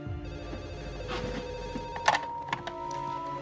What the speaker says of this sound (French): Puis on a reçu un appel de Paige